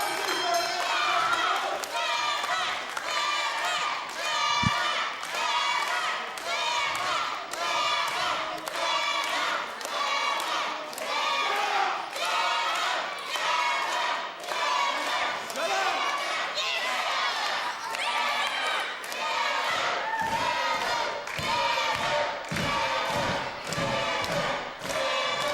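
Crowd noise at an NWA Mountain State wrestling show, rhythmic cheering and chanting in repeated bursts with thuds, heard under an announcer's commentary for the whole stretch.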